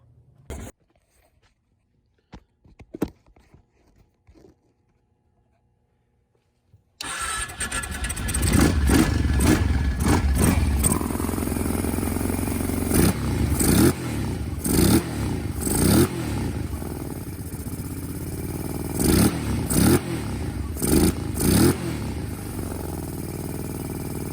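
A Kawasaki KFX 700 ATV engine, just after a valve adjustment, tries to start: a few faint clicks give way to a loud, close, sustained rough engine roar with rhythmic surging pulses, with no talking.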